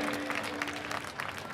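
Concert audience applauding at Al Wasl Plaza, Expo 2020 Dubai, during a rock-classical show; a steady, moderate wash of clapping from a crowd, fairly distant and even throughout, with a sustained tone humming underneath.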